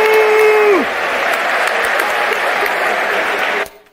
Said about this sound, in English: y'all give another big round of applause to the homies